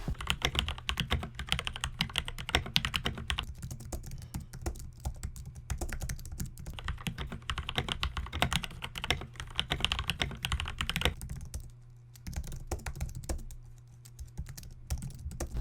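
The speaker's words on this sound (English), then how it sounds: "personally I think the Keychron sounds very satisfying and overall makes my typing experience better" Rapid typing on a Keychron K4 mechanical keyboard, a steady stream of clicky keystrokes close up, with a couple of brief pauses near the end.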